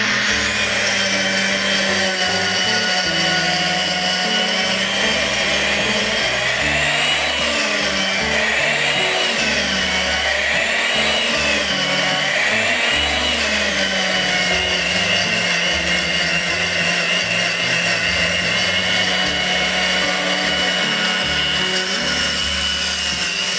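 A 28,000 rpm high-speed blender grinds ingredients into powder with a loud, continuous close whir and rough grinding that wavers slightly in pitch throughout, with no talk.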